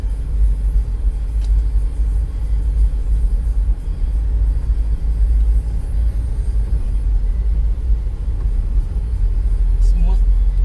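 Steady low engine rumble from inside a car during driving practice on a rainy day, continuous and fairly loud throughout, with people talking over it.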